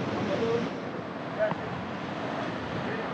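Ocean waves splashing on the Kauai shore, a steady wash of surf and wind noise with a soft splash midway, faint voices in the background.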